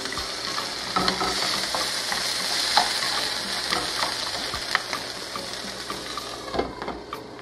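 Corn added to colourful vegetables sautéing in a pan, a steady broad sizzle with scattered scrapes and taps of a spoon stirring, close and continuous, no talking.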